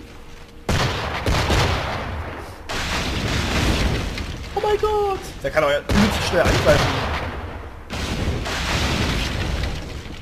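Cannons boom through a naval battle in the game Assassin's Creed 4 Black Flag, with repeated heavy blasts and roaring broadside volleys separated by brief gaps, while someone talks excitedly over the combat.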